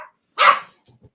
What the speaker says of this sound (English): I've got some very excited dogs here